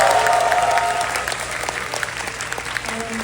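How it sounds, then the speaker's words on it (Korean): Dense, loud audience applause at an outdoor festival stage, a continuous wash of many clapping hands that holds steady and slowly eases off, with crowd noise mixed in. "저희 팬분들께 한번 박수 부탁드리겠습니다."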